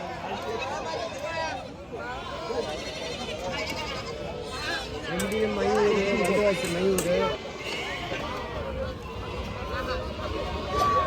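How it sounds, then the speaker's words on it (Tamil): Goats bleating repeatedly at a large, busy goat market in Chennai, several calls rising over a constant crowd babble, with people talking nearby. "இவ்வளோ ஆடு வருது இவ்வளோ ஆடு இன்னைக்கு வித்துறேன்"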